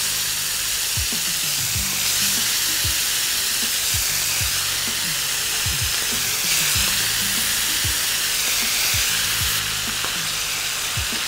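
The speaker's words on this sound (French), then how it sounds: "on va plonger les morceaux de viande dans de l'huile chaude" Pieces of chicken fry in hot oil with a steady, loud sizzle and occasional clinks and scrapes of a utensil stirring.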